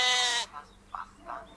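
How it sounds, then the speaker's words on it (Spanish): A grazing sheep lets out one loud, close bleat, followed by a few shorter, fainter bleats or murmurs in an otherwise quiet field. "A las ovejas pastando y balando."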